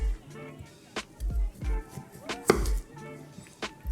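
A knife cuts potatoes into wedges on a cutting board, with several distinct chops spaced irregularly, close and fairly crisp, while a person talks between them.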